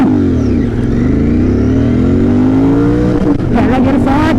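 Royal Enfield Continental GT 650 motorcycle pulling hard in first gear, the twin engine's loud rising roar climbing steadily in pitch, then a brief dip as the revs peak near the end.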